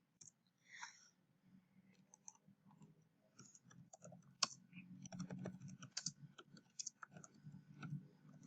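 Quiet, close computer keyboard typing during an accounting lecture, with irregular bursts of soft clicking keystrokes and scattered louder taps, no voices.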